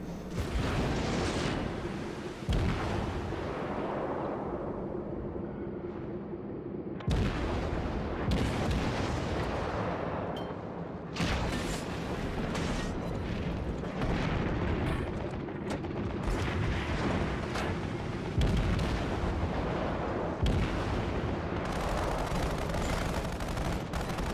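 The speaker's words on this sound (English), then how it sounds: "I continue to fire at the enemy while the Kuma does small laps" Naval cruiser guns firing in World of Warships, a Tier IV Japanese Kuma cruiser in battle, loud heavy booms of gunfire rolling over one another in a continuous roar with no voices.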